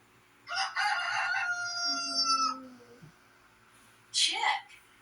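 A human voice imitates a rooster, giving one long rising and falling cock-a-doodle-doo crow, followed after a short pause by a second, briefer crowing call, close and fairly quiet.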